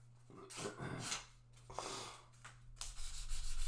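Fine 1000-grit sandpaper rubbed lightly along guitar frets during a partial fret dressing, giving soft, uneven scratchy strokes close by with a low steady hum underneath.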